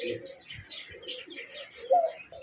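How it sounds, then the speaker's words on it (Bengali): Bombay pigeons at a pigeon farm give soft, low cooing calls that rise and fall across a couple of seconds, with a louder coo near the end. Chirps and voices from the farm mix in behind them. "এখানে আছে একজোড়া বোম্বাই কবুতর"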